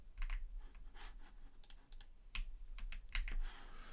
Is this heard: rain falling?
no